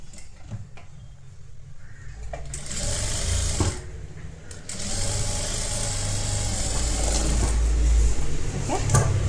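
A sewing machine runs in bursts while stitching a folded hem on a netted blouse, with a mechanical whir and needle rattle, fairly close. Quieter pauses and handling noises fall between the runs, and a voice speaks briefly.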